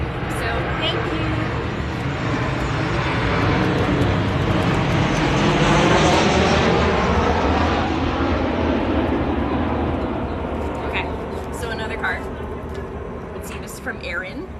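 A fixed-wing airplane flies overhead, its engine roar swelling to a peak mid-way and then slowly fading, with faint voices under it, during a summer solstice gathering.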